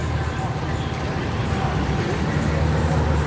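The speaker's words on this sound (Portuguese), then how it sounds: "Lá vem outra carreta." Road traffic in a Bahia town with a semi-trailer truck rolling past, a steady low rumble of heavy engine and tyre noise holding at constant loudness throughout, with faint background voices.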